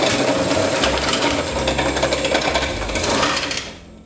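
Dense mechanical whirring and rapid clattering of a slicing machine cutting potatoes thinly for a dauphinois, steady and close throughout before cutting off near the end, with no talking.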